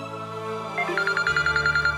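A telephone rings in a Hindi TV drama hospital scene, a steady electronic trill of rapid repeated pulses that starts partway through and carries on to the end, fairly close, with no talking over it.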